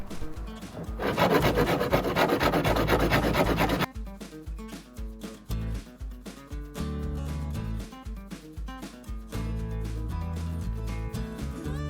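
A camper van's damaged side step is sanded by hand with a continuous rasping stretch, then shorter rhythmic rubbing and scraping strokes, close and fairly loud.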